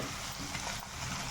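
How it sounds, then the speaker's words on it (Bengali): Spices frying in a pan for a capsicum, potato and paneer curry, giving a steady, soft hiss and sizzle with faint stirring scrapes, fairly quiet and constant, no voices over it. "দিয়ে একটু মশলাটা ভেজে নিচ్ছি।"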